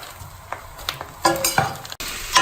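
Prawns sizzle and fry in a bubbling pan as a utensil stirs them, scraping now and then against the metal, close and fairly loud with no talking.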